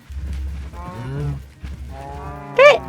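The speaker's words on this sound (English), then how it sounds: "There are a lot of cows in that biome, really." Cows in the Minecraft video game moo in a few low, drawn-out calls, loud and close, followed by a sharp higher-pitched game sound near the end.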